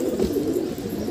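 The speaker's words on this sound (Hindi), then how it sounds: "अभी एक नया कलसीरा कबूतर यहाँ पे आके बैठा इस बास के ऊपर में" A pigeon perched on bamboo coos softly in a steady, low murmur through the whole moment, fairly close and with no talking.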